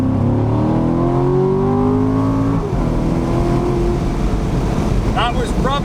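A C7 Corvette Stingray launches hard from a standstill with traction control off, its engine note climbing loudly through the revs before breaking into a rougher roar as it pulls away close by.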